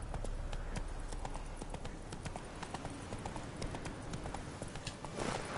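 Roach the horse gallops in a video game, with steady hoof clip-clops drumming through the whole stretch over a continuous background rumble.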